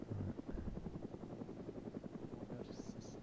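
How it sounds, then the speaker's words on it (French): A helicopter hovers overhead in the military video game ArmA 3, its rotor thudding in a steady rapid pulse at moderate level. "Ces hélicoptères de la mort."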